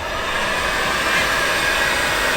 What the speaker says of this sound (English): you obviously want to make sure you don't get too close with the heat gun